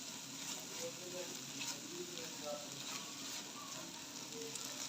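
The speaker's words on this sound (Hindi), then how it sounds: "अभी हम देसी घी डाल के इसको मज़ीद भून लेंगे" Carrot halwa, made from grated carrots, fries in desi ghee in a pan, giving off a soft, continuous sizzle with faint stirring scrapes, quiet and close.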